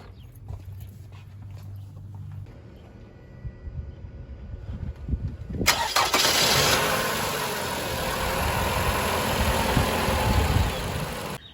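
A dead car's engine, boosted by a TACKLIFE T8 800A portable jump starter, cranks and then catches, roaring into a steady loud idle, after a stretch of quieter background noise and a dog whimpering.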